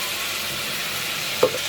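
Mutton fries with salt in a pan, giving a steady close hiss and sizzle with one brief clink of a utensil near the end and no talking.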